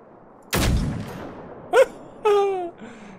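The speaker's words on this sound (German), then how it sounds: "Zwei Schüsse, zwei Drohnen." Gunfire in the Generation Zero video game: a sharp heavy shot followed by a short tail, then a brief clank and a second shot ringing down, with a faint tone after, and no talk.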